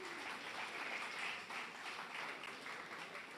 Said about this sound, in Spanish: Aplauda al Señor, tranquilo.